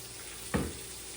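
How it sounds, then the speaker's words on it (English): Bacon grease sizzles in a hot skillet, ready for green beans; a steady low frying hiss with one brief louder crackle partway through. "I've got it in my skillet, and it's kind of sizzling"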